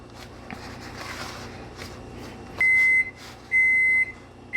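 A kitchen oven sounds two long electronic beeps in a row, clear and fairly loud over a quiet room with faint handling noises.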